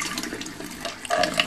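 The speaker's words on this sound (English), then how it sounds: "rinse the edges, get any residue off there, rinse that out" Tap water splashes briefly into a paint water pot at a sink as it is rinsed out, a short close burst of running and sloshing water.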